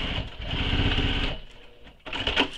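A sewing machine stitches a seam on a crossbody bag with a fast, even, buzzing motor rhythm, then slows and stops before a few handling clicks and rustles close by.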